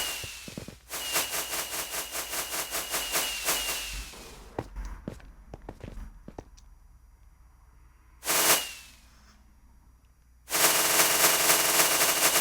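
Minecraft firework rockets go off in a rapid string of sharp crackling bursts. After a lull with scattered pops, one more burst follows, then a loud sustained crackle near the end.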